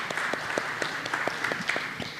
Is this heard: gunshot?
no